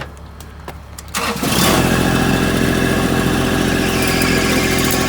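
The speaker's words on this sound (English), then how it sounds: "Gotta move the tractor." A tractor engine cranks and catches after a second, then runs at a loud, steady, rumbling idle close by, with no talking.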